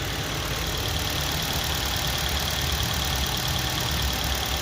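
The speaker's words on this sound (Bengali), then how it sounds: "ইঞ্জিনের সাউন্ড" A Maruti Suzuki Swift Dzire petrol engine runs at a steady idle after repair with original parts, giving an even, continuous mechanical hum with no breaks and no voices.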